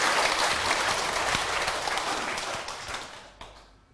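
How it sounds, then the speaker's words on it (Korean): Audience applause after a talk at a Korean lecture program, dense clapping filling the room steadily for about three seconds before thinning and fading out. "박수 한번 주세요"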